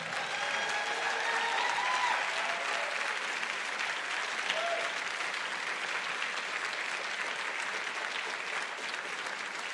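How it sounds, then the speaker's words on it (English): Sustained, dense applause from an audience at a congressional runoff debate for the candidates, steady and loud for the whole stretch with no break. "put your hands together for both of our candidates tonight"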